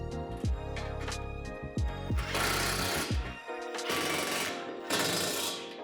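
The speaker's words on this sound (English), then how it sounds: "To make tightening this hardware easier, I like to use a pair of vice grips with a Phillips head bit." Hardware is tightened with vice grips holding a Phillips head bit while a Lifetime 8' x 20' outdoor storage shed is assembled, giving repeated loud, rattling, ratchet-like bursts that stop and start across several seconds.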